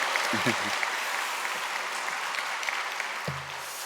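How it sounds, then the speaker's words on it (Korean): A congregation applauds during a Sunday church service, a continuous even patter of many hands, with brief speaking near the start and again toward the end. "다시 한번 박수 부탁드리겠습니다"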